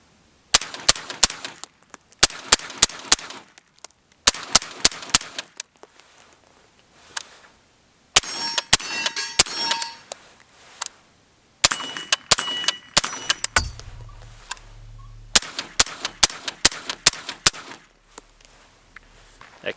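Sharp suppressed rifle shots from a Radical Firearms rifle fitted with a 3D-printed silencer, fired outdoors in quick strings of several cracks separated by short pauses, each with a metallic ring.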